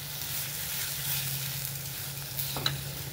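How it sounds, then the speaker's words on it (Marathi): A garlic-coconut masala is roasted in oil, making a continuous close sizzle with light stirring and a brief clink near the end, heard without talk. "हा मसाला आपल्याला चांगला खरपूस असा भाजून घ्यायचा आहे तेलामध्ये"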